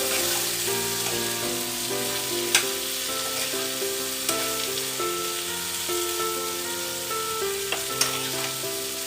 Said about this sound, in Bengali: এবার এটাকে ভালো করে নেড়ে নেব, নিয়ে কিছুক্ষণ রান্না করব।